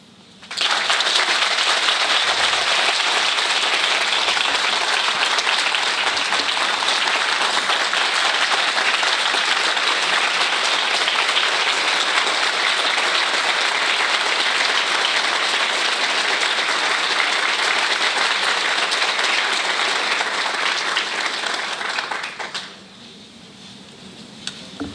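An audience at a lecture series breaks into steady, dense applause that holds loud and even for over twenty seconds, then fades quickly to a quiet room.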